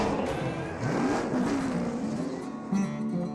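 NASCAR stock cars at a Goodwood demonstration, engines roaring as they accelerate and rise in pitch, loud and continuous with a throttle swell near the end and no voices.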